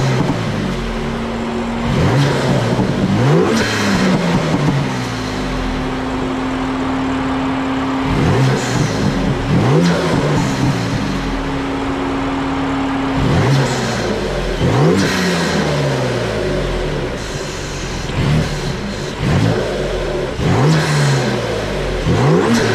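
A BMW M4 engine fitted with a CTS turbo intake revs repeatedly, rising and falling in pitch, loud and close with a whooshing turbo intake sound on each rev.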